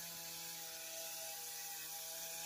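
Homemade anemometer spinning in a fan's airflow, a faint steady whirring hum with a constant tone and airy hiss throughout, no speech.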